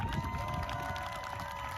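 An outdoor crowd at a Feast of Tabernacles gathering claps and cheers in a faint, dense, distant wash of applause, with no talk over it.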